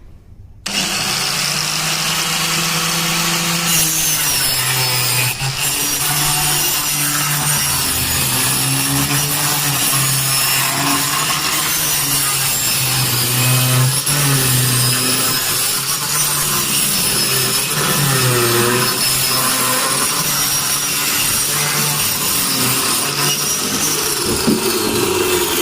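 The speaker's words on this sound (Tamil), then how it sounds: "இப்போ மிஷினில் எப்படி கட் பண்ணுறது அப்படின்றத நான் காமிக்கிறேன்." A machine cuts through a used plastic soap oil can, a loud, continuous grinding and rasping drone with wavering pitch that starts abruptly and runs steadily and close throughout.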